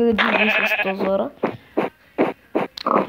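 Blocky sheep in Minecraft Pocket Edition give a long, loud bleat followed by a series of short, evenly spaced bleats, close and clear, with a player speaking now and then.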